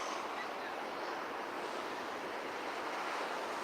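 Ocean waves surge against a rocky shore at the southern tip of Ocean Shore by a bay, a continuous wash of surf noise mixed with wind.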